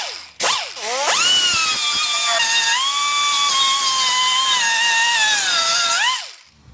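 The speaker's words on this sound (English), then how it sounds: "Now I'm going to come in, like I said, with the die grinder and hit this edge here." A die grinder trims the edge of a brake dust shield on a third-generation Toyota 4Runner, spinning up fast and then holding a loud, steady high-pitched whine for several seconds, dipping slightly as it bites into the metal before spinning down.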